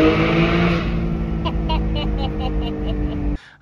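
A Porsche GT4 engine idles with its exhaust valves closed, a steady, deep hum and a faint tonal drone, fairly loud and close, then cuts off abruptly near the end.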